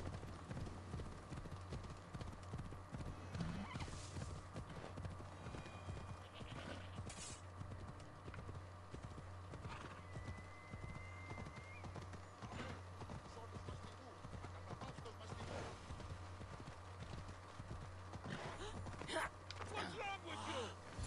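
Rhythmic clip-clop of a video game horse galloping over a low steady hum, with faint scattered effects and some talking in the background.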